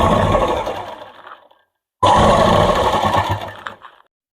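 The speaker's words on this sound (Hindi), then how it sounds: "अब हमें ऊपर एक सिलाई और लगा देते हैं, जो हमारे इस जेब का जो एक खुला है ना, बिल्कुल यहाँ लगाऊंगी मैं इसे बिल्कुल पास।" A domestic sewing machine stitches along a pocket on palazzo pants in two loud bursts of rapid whirring, separated by a short pause, with no talking.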